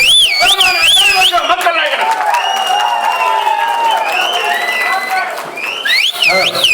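Film fans at a gathering for actor Ramarajan applaud and cheer loudly and continuously, with whistles and shouts rising over steady clapping and the crowd noise.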